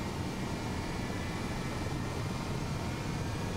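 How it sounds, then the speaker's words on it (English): A freeware Hype Performance Group H135 helicopter in Microsoft Flight Simulator gives off a steady, dense whooshing engine and rotor roar that holds loud and unbroken throughout, with no voices. "This is a fantastic freeware helicopter they use in Microsoft Flight Simulator."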